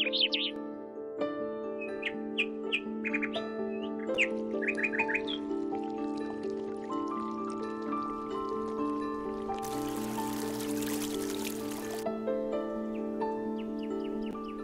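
Quick bursts of bird chirps from many species ring out early on over a steady humming drone, followed by a brief rush of noise, in dense trees around a temple near Pune.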